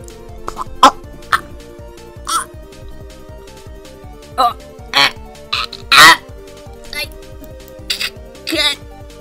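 In the Garry's Mod video game, a chicken clucks in short, sharp bursts scattered irregularly over a steady low game hum, alongside brief noises resembling coughs.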